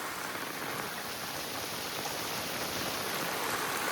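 Steady, heavy rain pours down in a dense, even hiss without pause, close and constant.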